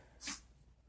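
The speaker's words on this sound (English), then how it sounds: "if you want to know what that sound is, the dog is right there" A dog gives a single quick, breathy snort or sneeze that is faint and brief against quiet background hum.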